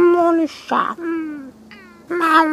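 A cat meows loudly and repeatedly up close, drawn-out and complaining, with a brief squeaky cry in between.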